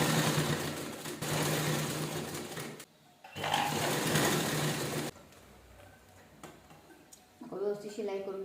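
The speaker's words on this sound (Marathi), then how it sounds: "जसे ह्या साईडला आपण आतल्या साईडला शिलाई करून घेतो तशी ह्या साईडला पण घेऊया" Sewing machine stitching a small pocket, running in a steady fast whir for a few seconds, pausing briefly, then resuming before stopping; someone speaks quietly over the quieter end.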